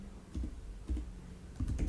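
A few soft keystrokes on a computer keyboard as a Spring Boot Kafka property is typed, three quick clusters of muffled clicks against a dull background hum.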